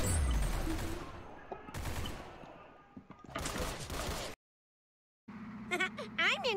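Video game gunfire, a Luger pistol in play, rapid bursts of shots in the first seconds that thin into scattered bangs, a full silence gap, then electronic game sounds; people talk over it.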